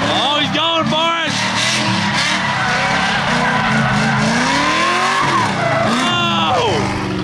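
A car drifting at a drift competition on a course bordered by grass: loud engine revving with repeated high, wavering tire squeals that rise and fall, then a final burst of screeching near the end.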